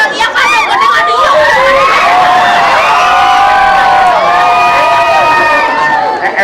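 A large festive audience at a Balinese bondres comedy performance for an anniversary celebration cheers loudly, with excited shouts, whoops and crowd hubbub sustained throughout, near and full.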